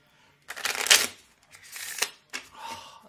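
Deck of playing cards being shuffled by hand, a few close, crisp riffling bursts with short pauses between, quiet and alone with no talk.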